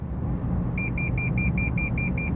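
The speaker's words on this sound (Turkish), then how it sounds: "Şeritten çıkarsam uyarıyor." A Lexus lane departure warning sounds inside the moving car, a rapid even series of about a dozen short, bright beeps over the steady low road and engine rumble.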